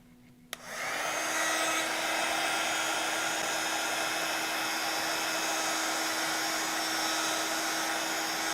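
Heat tool switching on with a click and then blowing a steady loud whirring roar, used to melt embossing powder for heat setting.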